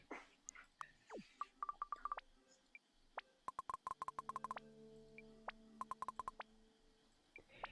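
Telephone dialing on a phone in a bar in the video game Mutazione, heard as several quick runs of short electronic beeps with pauses between them. Faint arcade sounds play in the background.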